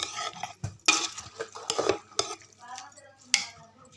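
A spoon stirs and clinks against a bowl while mixing spiced yogurt for dahi bhalla; irregular scraping and sharp metallic taps, close and fairly quiet, with no talk.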